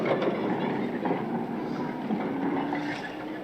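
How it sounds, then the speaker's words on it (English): A tram running on rails gives a steady rumble with faint clatter and a thin wheel squeal, heard at moderate level throughout, continuous without clear pauses. "I know it's a tram."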